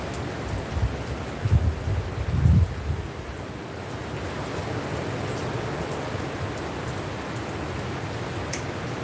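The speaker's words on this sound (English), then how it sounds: "It's very windy too." Wind buffets and rumbles steadily with a few heavier gusts early on, a constant rushing roar and no talking.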